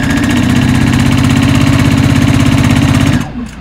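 A sewing machine runs at steady speed, stitching lightweight cotton for a summer robe. It gives a loud, close, rapid rhythmic whir for about three seconds, then stops abruptly and leaves a faint rustle.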